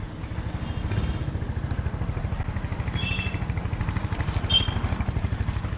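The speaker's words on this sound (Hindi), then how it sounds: "मैं आपको इसका एग्जॉस्ट नोट का साउंड सुनाता हूँ" A Royal Enfield Hunter 350 motorcycle idles after starting, giving a steady, low thumping single-cylinder exhaust pulse that is close and continuous with faint clicks above.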